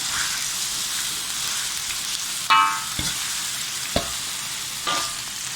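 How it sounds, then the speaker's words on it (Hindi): Finely shredded meat fries in a pan for haleem with ginger, garlic and spices, giving a steady close sizzle, with a few sharp clinks of a spoon stirring against the vessel. "दो से 3 मिनट लगेंगे व्यूअर्स गोश्त को भूनने में"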